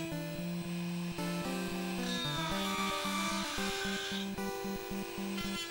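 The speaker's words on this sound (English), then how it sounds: "So we're using a Dremel with a thin cut blade on top right there." A Dremel rotary tool with a thin cutting blade whining steadily as it cuts into the plastic of an NES controller, its pitch dipping and shifting under load while the cut goes on.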